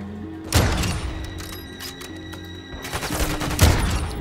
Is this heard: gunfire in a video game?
yes